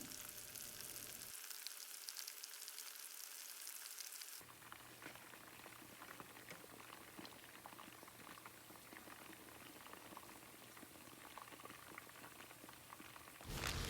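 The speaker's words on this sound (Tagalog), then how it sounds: "At ngayon naman ay fry na natin ang ating chicken breast." Chicken breast fries in a pot with a soft, steady bubbling sizzle that briefly thins near the start, then continues quietly and evenly without any talking.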